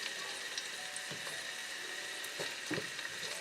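Garlic frying in a pan for pinakbet, a steady close sizzle with a few soft stirring knocks and no voices.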